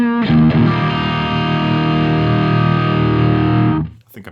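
An electric guitar chord rings out heavily distorted through a Brainworx Friedman DS40 Dirty Shirley amp plugin on the Lead German 4x12 cabinet, sustaining loud and steady for nearly four seconds before cutting off.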